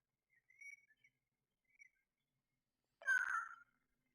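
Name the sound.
birds calling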